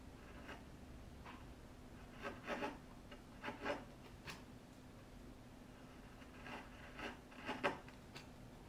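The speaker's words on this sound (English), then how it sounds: "I'll take a chisel and I'll pare and leave the line" A chisel pares wood by hand, about a dozen short rasping strokes, some in quick pairs or clusters, quiet and close over low background hum.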